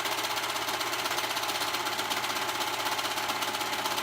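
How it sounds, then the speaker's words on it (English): Serger sewing machine stitching hoodie fabric, a fast steady mechanical whir with rapid regular ticking from the needle and loopers, running continuously up close. "especially when you're using a serger."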